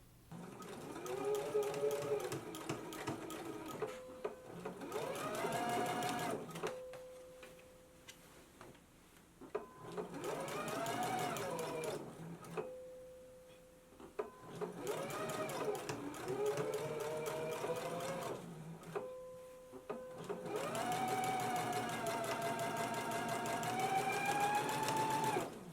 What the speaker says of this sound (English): now we can move on to the next step, which is to stay stitch along our neck edge